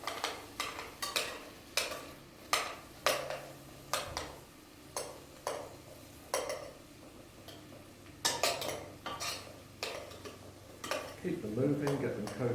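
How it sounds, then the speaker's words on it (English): Potatoes are stirred in oil in a pot, with a series of sharp utensil scrapes and knocks against the metal in an irregular rhythm, close by, and a faint sizzle building near the end. "So we'll give these a stir."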